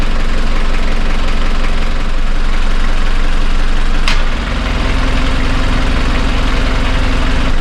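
A boat engine idles loudly and steadily as it warms up, with a continuous low rumbling throb, a brief shift in tone midway and a faint click, close and with no talk.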